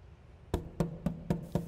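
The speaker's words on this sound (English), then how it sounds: "Somebody at the door, Meredith." Five sharp, evenly spaced knocks on a door ring out close and clear against a quiet room.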